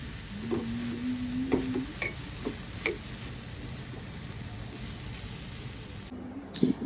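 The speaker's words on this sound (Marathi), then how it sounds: "त्याच्यासाठी मी काजू बदाम कट केले, ते तुपामध्ये चांगले फ्राय केले." Chopped cashews and almonds fry in ghee with a steady, soft sizzle. A spoon gives occasional light taps and scrapes against the pan, close by, with no talking.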